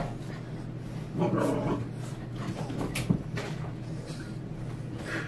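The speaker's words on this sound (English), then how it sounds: "our dogs go nuts everywhere" Pet dogs in a home kitchen make excited noises, with a burst of yelping and whimpering early on, then panting and scattered thumps and shuffles nearby.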